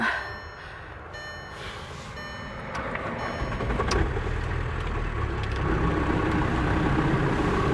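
A car engine idling just after being started on a morning in Norway, a low steady rumble that grows slightly louder and holds, with a few faint clicks and beeps early on.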